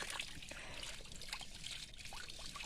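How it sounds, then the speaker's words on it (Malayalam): Water runs steadily from a tap in a home kitchen, a soft continuous trickle and splash at low volume with no clear breaks. "പൈപ്പ് തിരിക്ക്."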